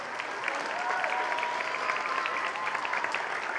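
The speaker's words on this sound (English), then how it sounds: "A round of applause." At a school Veterans Day assembly, the audience applauds in a steady, moderately loud round of clapping from many hands, with a few faint voices and tones threading beneath the continuous patter.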